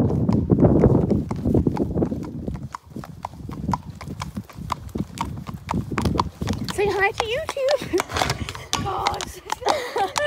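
Horse hooves clip-clop steadily on a hack out, walking at a regular rhythm close by, with people talking over the hoofbeats throughout.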